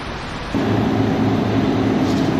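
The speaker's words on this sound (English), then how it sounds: "the rain's only getting heavier" Heavy rain pours during a storm at Suncorp Stadium in Brisbane, a steady loud wash of noise that swells slightly after the first half second and continues unbroken.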